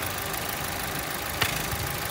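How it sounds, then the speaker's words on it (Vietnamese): A 2010 Chevrolet Cruze LTZ with a 1.6 automatic engine idles smoothly and steadily, a quiet even hum with one brief faint knock partway through and no talking. "chiếc máy cái khoang động cơ của chiếc Chevrolet Cruze này thì máy nổ rất là êm anh em nhé"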